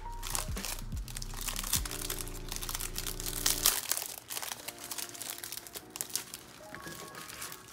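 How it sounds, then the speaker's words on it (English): Crinkling and crunching cellophane bag being folded, rustling in bursts up close, with steady low hum under the first half, then softer scattered crackles. "I fold over my cello bags too when things are smaller"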